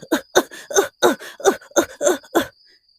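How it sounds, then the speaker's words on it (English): A run of about nine harsh, close coughs in quick rhythmic succession, voiced and hacking, then silence. "How long have you had that cough?"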